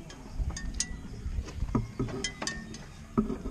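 A 100-year-old McCormick Deering tractor engine is cranked over by hand to check for stuck valves, producing irregular metallic clunks and clicks at close range with brief pauses between them.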